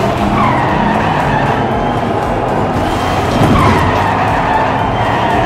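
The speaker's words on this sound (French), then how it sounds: "Waouh, c'est un drift sévère là!" A diecast miniature racing car skids and drifts on a track in a Group 4 race, giving a loud, continuous tire squeal and rushing roar that swells slightly near the end, with no talk.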